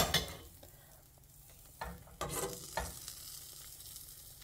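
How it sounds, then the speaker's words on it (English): Bread topped with Swiss cheese toasting in a pan, giving a quiet, steady sizzle with a few soft scraping and shuffling bumps, and no talking. "I flipped my bread, and I'm only putting Swiss on one side, and I'm going to let this side bottom toast"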